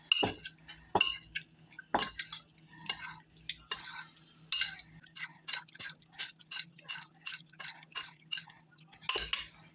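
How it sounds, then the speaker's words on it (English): A utensil stirs food around a pan in a home kitchen, making repeated sharp scrapes and clinks in an uneven rhythm, close and fairly quiet, with no talking. "I'm gonna give these a stir."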